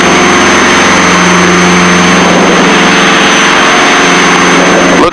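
Twin piston engines of a Piper Seneca droning loudly and continuously during a climb, their tone shifting slightly as the throttles are eased back to 25 inches.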